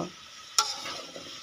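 Chopped vegetables sautéing in a pan with spices for an egg curry, a soft sizzle with one sharp stir or clatter near the middle and faint scraping after.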